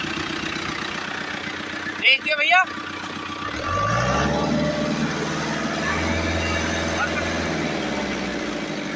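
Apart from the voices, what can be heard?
ACE DI 450 tractor engine idling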